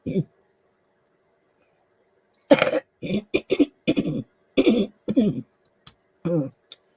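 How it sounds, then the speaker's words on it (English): Several rough throat-clearing and coughing bursts, close and loud, in an irregular cluster separated by short pauses of silence. "Clearing my throat terrible just at the minute."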